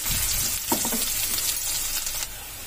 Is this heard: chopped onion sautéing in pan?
yes